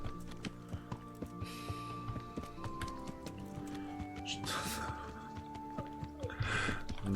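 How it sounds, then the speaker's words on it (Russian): A horse in the medieval game Kingdom Come: Deliverance, hooves clip-clopping in a steady, light rhythm at mid distance, over an ambient music bed, with a brief louder rustle near the end. "Там лошадь что-то там делает странное."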